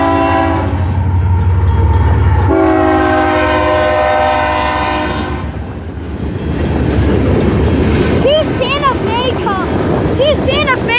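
A BNSF freight train led by locomotives in Santa Fe paint passes close by, sounding loud, sustained multi-tone horn blasts, then rumbling and rattling wagons. Birds chirp near the end, and a person talks excitedly over the passing train.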